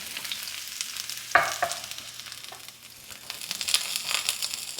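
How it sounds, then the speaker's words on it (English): Onions sizzle in hot olive oil for a steak bomb, a steady frying hiss with a sharp burst as they hit the pan, then a scrape of spreading them out, no talking. "And we're going to start cooking our onions, so we need some olive oil."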